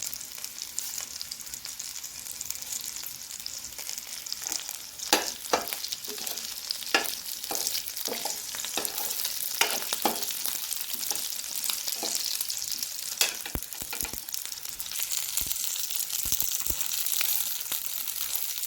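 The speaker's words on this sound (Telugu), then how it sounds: "పచ్చిమిరపకాయలు ఇలా వేగినాయి కదా ఇప్పుడు మనం కొద్దిగా మెంతులు వేయాలి" Green chillies and fenugreek seeds fry in oil in a pan for a cucumber chutney, a steady crackling sizzle close by punctuated by scattered sharp pops and stirring scrapes.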